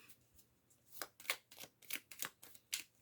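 Soft, close tarot cards slide and tap as one is slipped back into the deck, a quick run of light papery flicks.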